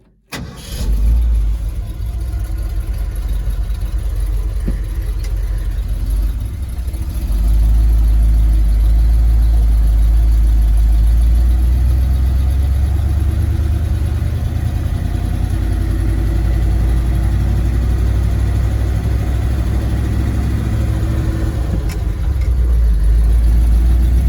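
A 1971 Ford F250 pickup truck engine starts with a sharp catch, then settles into a loud, deep rumble that grows and holds steady as the truck drives on.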